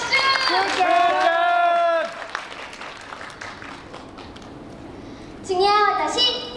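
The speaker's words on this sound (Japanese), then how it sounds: "拍手。" Audience clapping greets young idol performers introducing themselves at a shopping-center stage event, a steady patter of applause between bright children's voices speaking at the start and end.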